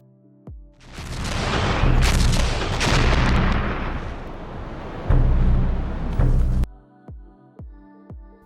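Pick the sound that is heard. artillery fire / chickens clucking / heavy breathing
artillery fire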